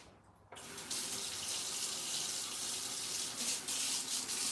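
Water gushes from a kitchen tap into a sink, rinsing icing off a cookie; the flow starts abruptly after a brief quiet moment and runs steadily and close, with faint splashing changes.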